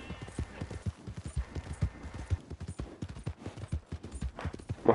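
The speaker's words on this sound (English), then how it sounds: "My horse is super slow." Horse hooves clip-clop in a quick, steady rhythm in Red Dead Redemption 2 as a slow horse rides at moderate volume, with the close, irregular thuds continuing throughout.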